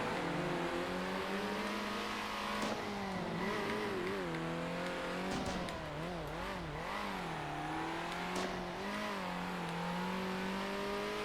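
Race car engines in the racing game Circuit Superstars, a prototype series race: a steady high engine drone with pitch dips and rises through gear changes and corners, other cars audible nearby, no talk.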